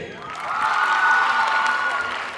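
A crowd at a women's college mimicry show breaks into applause with some cheering, a brief swell of clapping that rises and fades over about two seconds.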